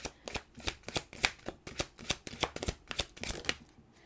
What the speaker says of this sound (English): I'm going to go ahead and get one more card out there.